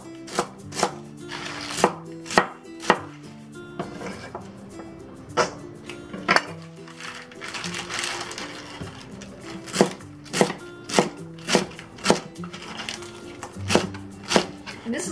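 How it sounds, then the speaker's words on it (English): A knife chops collard greens on a cutting board for Southern-style mixed greens, giving a long series of sharp, close, evenly spaced thuds with a few short pauses and some low background hum. "Well, next let's cut the greens."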